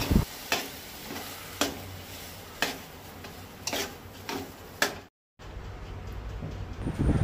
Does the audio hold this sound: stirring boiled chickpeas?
yes